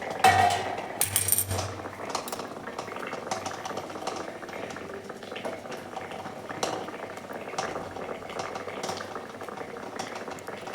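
Water bubbles and rolls at a steady boil in a steamer pot on a gas stove while methi vadi cooks, a dense close burble with occasional metallic clinks and no talk.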